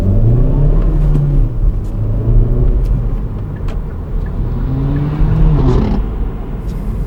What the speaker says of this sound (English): off the light acceleration is quite good